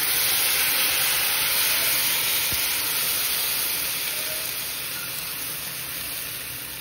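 Ghavan batter poured into a hot pan gives a steady, loud, close hiss and sizzle that carries on for several seconds and fades slightly toward the end, with no voices.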